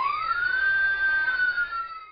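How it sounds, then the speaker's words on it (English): A police car siren wails close and loud, a single rising then steadily held tone that slides slightly down at the end, with no voices over it. "You just have to listen for the police sirens."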